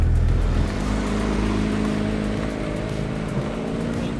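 Porsche 911 GT4 RS, a naturally aspirated road-going race car, holds a loud, steady engine drone with dense low harmonics, no voices.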